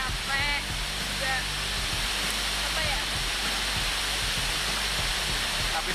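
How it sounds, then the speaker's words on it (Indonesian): The Trap Sewu waterfall on the western side of Lumajang roars as a steady, dense broadband rush of falling water, close and continuous, with a voice faintly audible beneath it. "Air terjun Trap Sewu berada di sisi barat Kabupaten Lumajang"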